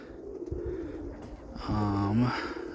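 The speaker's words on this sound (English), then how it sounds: "Decided to do a recording of the birds early on." Roller pigeons coo nearby with a low, rolling call that swells toward the end, over soft background murmur.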